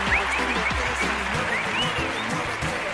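A studio audience applauds for a radio console operator, giving a brief burst of clapping mixed with voices and cheering, fairly faint.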